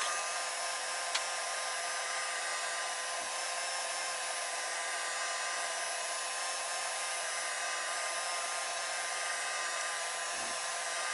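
A heat gun blows steadily and loudly on a Mk4 Jetta/Golf fender being heated for rolling, a constant hiss-like roar that holds without a break for the whole stretch.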